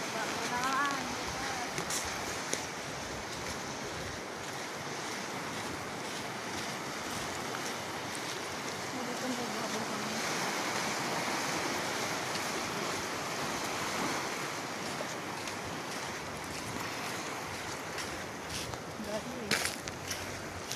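Continuous ocean surf washing in a steady roar on a beach at Baler, with wind buffeting the microphone throughout.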